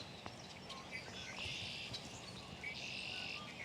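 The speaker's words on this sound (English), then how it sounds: "I hear a lot of birds in the trees." Birds chirp and sing in the trees above a torn-up, bent fence. The bright, high calls come in two faint bursts over a soft, steady outdoor hiss.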